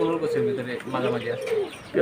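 High-flying pigeons coo in low, rolling murmurs close at hand, a soft continuous warble with no talking.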